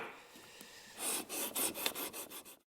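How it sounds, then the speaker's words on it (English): A sanding block rubs against a wooden part of a classical guitar under construction, starting with light scraping and then making about seven quick, rhythmic rasping strokes close by before stopping abruptly. "you're going to want to square this up and get a little closer with your sanding block."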